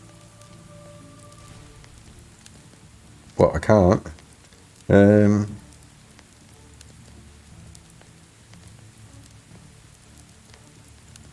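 Steady rain falling in the video game Medieval Dynasty, a continuous patter throughout, briefly interrupted by two short bursts of a voice speaking.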